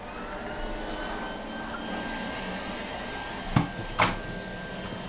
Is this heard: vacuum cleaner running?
yes